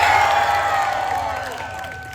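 A live audience at a holiday comedy show cheers and whoops loudly, a dense sustained crowd roar that starts at full volume and slowly tapers off over a couple of seconds, with no talking on top.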